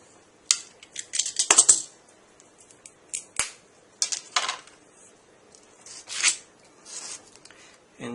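Scissors or a hobby knife cutting a part for a scale model airport jetway, a series of short, crisp snips and scraping cuts at close range, irregularly spaced with quiet gaps between them.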